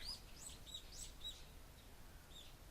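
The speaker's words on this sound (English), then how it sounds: "The chirping of birds served as my alarm clock." Morning birdsong in a visual novel video game: a scattering of short, high chirps and tweets, faint and sparse over a soft, quiet background.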